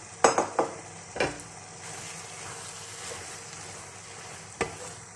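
Keema mince fries in a little oil with cumin and black pepper, a soft steady sizzle punctuated by several loud metallic clanks of a spoon against the pan, with no talking.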